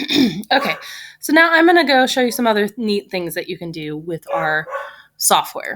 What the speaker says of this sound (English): my apologies for the dogs barking at the garbage man